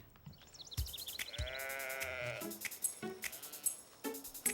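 Sheep bleat in a French children's cartoon, several high wavering cries one after another, mixed with light musical tones and playful sound effects and no talk.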